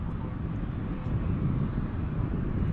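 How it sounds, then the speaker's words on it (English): A steady, broadband roar from a Boeing 747 taxiing across a runway at DFW airport on a clear morning, continuous and fairly loud with wind-like rushing and no distinct breaks. "our 747 hurries across the runway"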